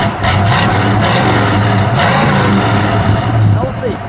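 A 1969 Mercury Cougar XR7 with a 351 V8 and natural exhaust rumbles at idle and gets a couple of short revs, loud and close, with someone talking over it.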